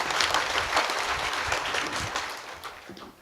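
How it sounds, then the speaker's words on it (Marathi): A kirtan audience breaks into loud, dense clapping, a sustained burst of applause from a crowd that gradually thins toward the end. "टाळी होऊन जाऊ द्या जोरदार."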